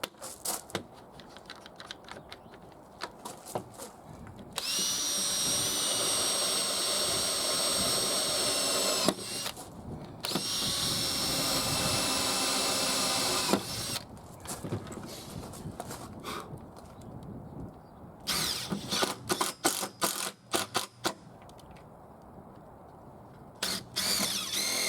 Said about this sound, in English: I've just got to nip the heads off them before I put the screws in